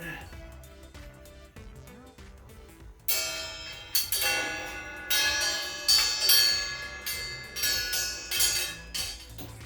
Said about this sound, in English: Now we're going to do a little spray paint.